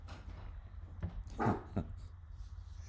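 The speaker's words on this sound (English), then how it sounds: "Got a guard dog here warning me that something's happening." A guard dog gives a couple of short, muffled barks at a distance over a steady low hum, the sharpest bark near the middle and a softer one just after.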